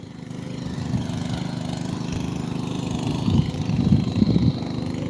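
A tractor engine runs steadily nearby, a low rumbling drone with a slight rise in chugging toward the end.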